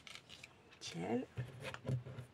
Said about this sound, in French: Ciseaux normal, là je vais à peine couper un petit chouïa.